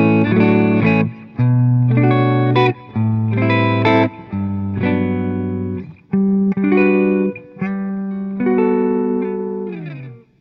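An electric guitar plays a clean tone through an amplifier set with controls around the middle on its low-sensitivity input, ringing out bright chords in short strummed bursts separated by brief pauses.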